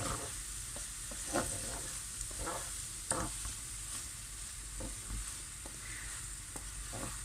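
A spoon stirs rice soaking in a little water for olive-oil stuffed cabbage rolls, with repeated light scraping clicks over a steady wet hiss, close by.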